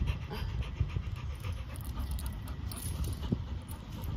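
A dog pants close by in quick, rhythmic breaths, with faint jingling and mechanical clicks in the background and no speech.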